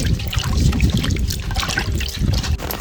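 Water from a can is poured to wash vegetables for a village fish curry, making a steady trickling and splashing sound with irregular bursts throughout.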